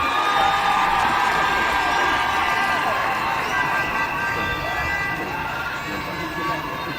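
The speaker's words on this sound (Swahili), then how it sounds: "Makofi tafadhali." A large crowd at the swearing-in ceremony of a deputy president cheers, whoops and shouts in a continuous, loud roar of voices. Scattered clapping blends in throughout.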